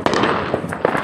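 Fireworks and firecrackers set off at houses in a Las Vegas neighborhood on July 4, 2020: rapid, loud crackling pops and bursts packed closely together.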